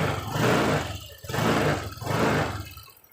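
A Honda Vario scooter engine running with idling stop switched on and failing to shut off. Close and fairly loud, with three broad rising-and-falling swells of rough engine noise before it drops away. No talking.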